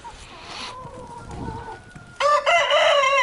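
Roosters crow loudly and chickens cluck close by, a shrill crow bursting out near the end after softer clucking and calls.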